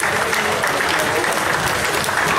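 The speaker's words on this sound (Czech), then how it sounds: "bych poprosil potlesk" A crowd at a celebrity tournament applauds the referees, a dense, steady burst of clapping from many hands, fairly close and loud, lasting a couple of seconds without talk.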